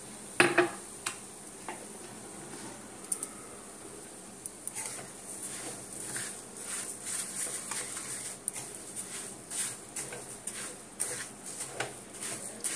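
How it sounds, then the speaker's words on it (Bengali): A spoon scrapes and clinks in a pan while sugar and cardamom are stirred over ghee with cashews for a sweet mango pickle, giving faint, irregular metallic taps and a soft steady sizzle. "চিনিটাকে এইভাবে নাড়িয়ে নাড়িয়ে যখন রসের মতন হয়ে যাবে"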